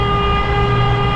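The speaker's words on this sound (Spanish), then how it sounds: "hay que tocar bocina, vamos a tocarla" A car horn blares inside a tunnel in Puerto Rico, one steady, loud, sustained honk with a rich echoing tone filling the whole moment.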